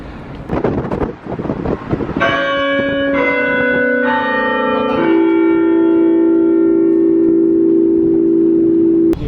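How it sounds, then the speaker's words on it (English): A large clock tower bell strikes several times in succession at the Liverpool waterfront, each ring overlapping and leaving a long sustained hum, with wind buffeting the microphone at the start. "that was the clock bell going off"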